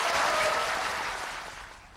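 An audience applauds in a TV studio, a soft, fairly faint wash of clapping that steadily fades away over a couple of seconds.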